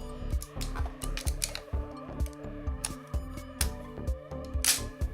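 A Nikon FE film camera is worked by hand, its advance lever cocked and its shutter released in a rapid run of crisp mechanical clicks and ratcheting ticks, close and clear.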